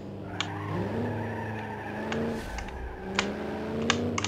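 A car at full throttle in BeamNG.drive, its engine holding a strained, steady roar while the tires skid and squeal, with a few sharp clicks on top and no talk.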